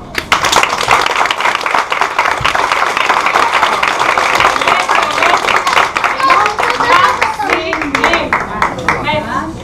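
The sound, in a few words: parents and guests clapping for children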